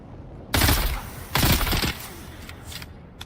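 Gunfire in a desert survival video game, Dune: Awakening: two loud, dense bursts of shots close together, then a fainter scattered crackle trailing off.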